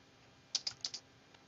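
Typing on a computer keyboard: a short burst of four quick, fairly close keystrokes, then a lone faint tap after a pause, with no talking.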